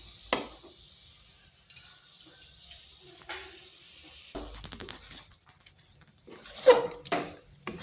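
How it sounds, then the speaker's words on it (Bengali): Thick date-palm jaggery filling for dudh puli pitha being stirred in a pan, with intermittent scraping and clinking strokes of a spoon against metal and a soft sizzle between them, fairly close and moderately quiet. "পুরটা এইভাবে অনবরত নাড়তে হবে"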